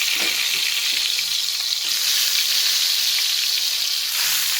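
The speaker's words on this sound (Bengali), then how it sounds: "দিয়ে দিচ্ছি তেল, দিয়ে দিচ্ছি বেগুন।" Eggplant pieces frying in hot oil, a loud, dense, continuous sizzle heard up close and unbroken for the whole stretch, with no talking over it.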